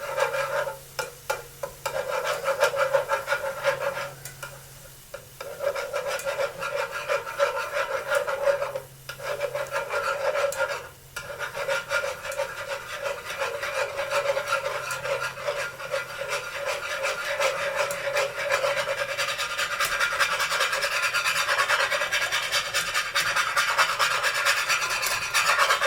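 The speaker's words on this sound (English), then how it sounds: "I like to whisk it." Egg chowder mixed with milk is whisked by hand in a bowl, a close, continuous rhythmic scraping and swishing with a few brief pauses, growing busier toward the end.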